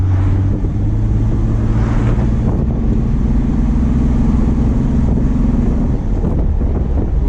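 A 1996 Ford Ranger XLT engine is given light throttle toward 3,000 RPM, a loud, close, steady drone whose pitch shifts slightly as the revs climb, with no talking over it.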